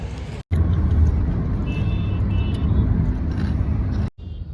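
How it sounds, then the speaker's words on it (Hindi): Heavy road traffic heard from inside a car on a drive from Delhi to Braj Ghat gives a steady, loud engine and road rumble. It cuts off abruptly at both ends. "ट्रैफिक अभी तक नहीं रुका है जी। बहुत ट्रैफिक है।"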